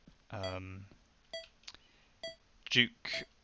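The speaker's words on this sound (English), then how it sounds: "we can actually hear the beeping from the tower" Short electronic beeps and tones from a tower in Minecraft sound at irregular intervals, some sustained and buzzy, others quick blips, with brief game-like sound effects between, including a ticking observer clock.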